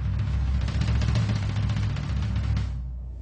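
Rapid kick drum hits blur into a dense, booming low rumble for several seconds, then ring out and fade.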